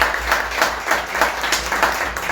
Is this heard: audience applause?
yes